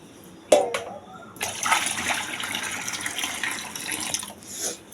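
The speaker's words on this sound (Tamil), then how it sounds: "இது வந்து நேற்று சோறு வடித்த தண்ணி, இதை வந்து ஆட்டுக்கு ஊற்றணும்." A brief clatter, then leftover rice-cooking water pours out in a steady splashing stream for several seconds, close by, before trailing off.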